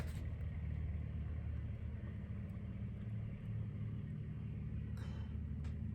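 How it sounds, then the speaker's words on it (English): A truck rumbles past just beneath a window, a steady heavy low-frequency drone that holds loud and close for the whole stretch, with no voices. "truck that needs to come right underneath my window right this second"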